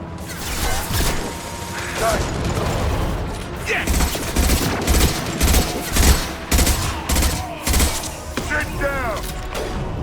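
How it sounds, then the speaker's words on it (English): Gunfire in Mass Effect 2 from a high-impact weapon, heard as loud, dense bursts of shots and mechanical clatter. Game effects and brief voice chatter sit around the shots. "Firing a high-impact shot."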